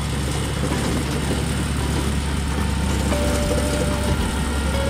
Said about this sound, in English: This tractor lawnmower is really good when you've got a lot of grass to cut.